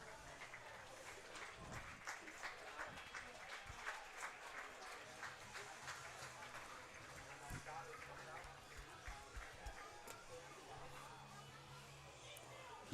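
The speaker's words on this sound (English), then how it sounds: "He gets his round of applause, though, from the crowd here." A baseball crowd at a Niagara Falls Americans versus Batavia Muckdogs game claps for a player, a sustained ripple of applause with scattered cheers while an announcer talks over it.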